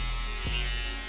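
An old electric foil shaver runs close up with a steady, dense motor buzz and no voices over it.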